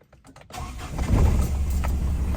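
A misfiring car engine cranks briefly after a quiet moment, then catches and settles into a loud, rough idle close by.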